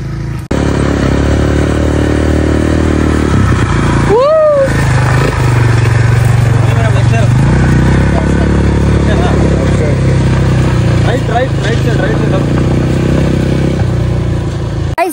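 A motorcycle engine drones steadily and loudly at close range throughout a ride, with wind rumble and a few whistling, chirping tones over it.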